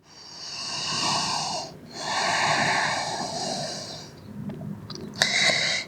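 During yoga practice, long audible breaths come through the nose and mouth: two extended, airy, slightly raspy exhales and then shorter snuffling breaths, close and clear without speech.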